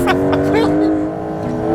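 A Porsche 911 Turbo S drifts with its engine note held at a steady, loud drone while the car slides, and a voice speaks over it briefly.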